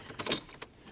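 A small bunch of car keys jangles in a few quick bursts, close and fairly quiet, with no talking.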